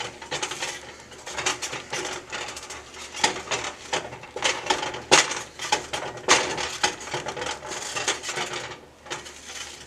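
Spatula scraping scrambled eggs across the bottom of a pan, a run of close, uneven scrapes and light clatters that swell and fade in irregular strokes, with no voices.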